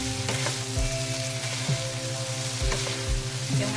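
Ground beef giniling with vegetables sizzles steadily in a frying pan while a spoon stirs through it, giving a close, continuous fry with scraping strokes and no talking.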